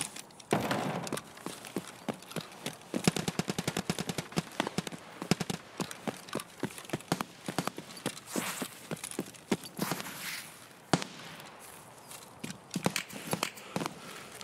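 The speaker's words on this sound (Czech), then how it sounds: "Střílí na dormy." An AGS automatic grenade launcher fires in Escape From Tarkov, a rapid run of sharp thumping shots and distant impacts in irregular bursts throughout.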